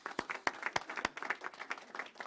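A small audience at a press conference for a tenant harassment prevention task force claps briefly, with crisp scattered hand claps from a modest group in an indoor room.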